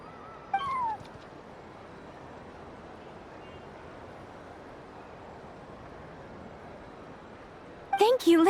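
A cat in the video game Genshin Impact meows, a short call near the start and another at the end, close and clear over a quiet background with faint speech.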